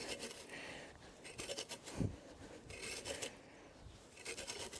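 A soil rake scrapes and lifts cut grass on a small city lawn, making soft, close scratchy rustles in a few short strokes with a brief thud partway through.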